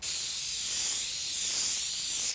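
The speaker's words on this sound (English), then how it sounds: "I'm going to spray it with some non-stick cooking spray" Non-stick cooking spray hisses onto a baking pan in one continuous close burst lasting a couple of seconds, bright and airy, with no talk.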